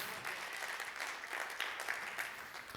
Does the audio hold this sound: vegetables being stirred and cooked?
no